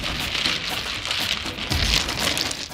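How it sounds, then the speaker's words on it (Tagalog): Dense clattering and rattling of many hard mahjong tiles being shuffled on a tabletop in an auditorium, continuous and fairly close, with no voices. "ang pamilyar na ingay ng mga hinahalo-halong tiles sa mesa"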